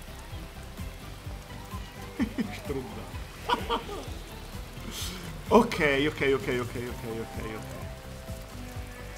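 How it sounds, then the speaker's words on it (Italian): Rain falls in the video game Astro's Playroom, a steady soft patter filling the background while a person talks over it in bursts. "è bellissima questa pioggia, è una cosa stupenda"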